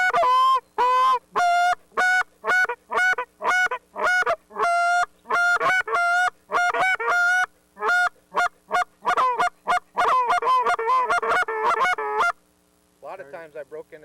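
A handheld goose call is blown to imitate geese, giving loud, close, rhythmic honks and quick double clucks in steady bursts, speeding into a rapid flurry before a short pause and a few softer notes.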